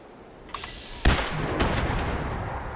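Laser sniper rifle shots in a video game: a sharp crack near the start, then a loud, bright blast about a second in followed by another shot, with ringing electronic tails and a steady hum underneath.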